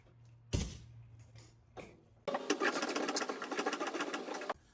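A motorcycle's rear end is jacked up to clear the fender so the back wheel can come out. A couple of sharp knocks lead into about two seconds of steady, close mechanical rattling and cranking.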